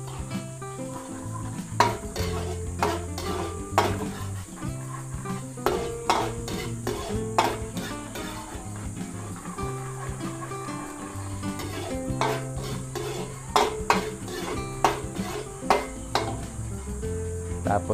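Chopped garlic sizzles steadily in a hot pan while a utensil scrapes and clacks against the metal in irregular bursts, close and continuous, as a Filipino sautéed base is started.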